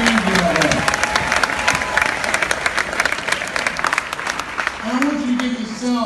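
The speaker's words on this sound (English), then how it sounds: "I want you to give all the presenters a tremendous round of applause." A speech audience in Jamaica breaks into sustained applause for the presenters, dense clapping with crowd noise and cheering throughout, while a voice rises briefly at the start and end.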